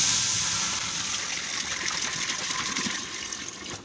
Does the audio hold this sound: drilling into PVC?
no